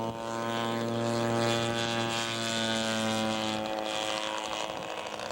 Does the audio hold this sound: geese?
no